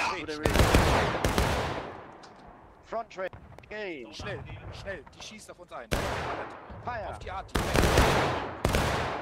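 Musket volleys in the War of Rights video game on the Garland's Stand map: several loud, sharp crashes of massed fire arrive in bursts, with shouted commands and voices in between.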